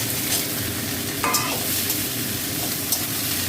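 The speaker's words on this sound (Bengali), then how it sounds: "এবার আমি ঝিঙেটা দিয়ে একটু ভেজে নেব।" Ridge gourd sizzling in a pan of hot oil, a dense steady hiss and crackle close by, broken once by a short metallic clink of a utensil.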